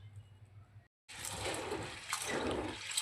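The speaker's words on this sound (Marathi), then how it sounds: "छान पद्धतीने आपण हा गहू 2 ते 3 पाण्याने धुवून घेऊया." Wheat grains being rinsed in water in a kitchen: a soft low trickle, a brief silence, then a louder sloshing, pouring rush of water that continues to the end.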